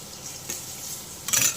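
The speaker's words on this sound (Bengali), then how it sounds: "এই যে এখন চলছে পটল ভাজা" Pointed gourd (potol) fries quietly in a pan in a home kitchen, a faint steady sizzle marked by two brief scraping clinks of a utensil near the middle and the end.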